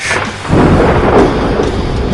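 Deep, loud rumble of a thunder sound effect opening a rock music podcast intro, a sharp onset around half a second in, then a sustained rolling boom.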